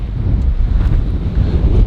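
Gusty wind buffets the microphone, a loud low rumble with brief hissing surges, no voices.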